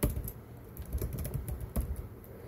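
Rapid clicking of typing on a computer keyboard, steady and close, with irregular keystroke bursts and no voices over it.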